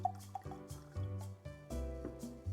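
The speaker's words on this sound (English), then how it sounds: "Let's pour it into the glass and see what we get." Heaven's Door 10-year bourbon whiskey trickling from a skinny bottle into a glass, a short soft liquid pour with gurgling drips and rising pitch, close and quiet, no talking.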